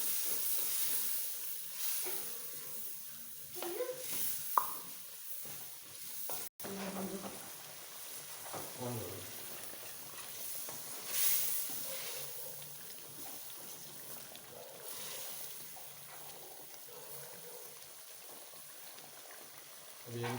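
Chicken curry (chicken kadhi) being fried in a pan after about half a cup of water is added, giving a steady close sizzle and hiss with stirring scrapes throughout, no talk.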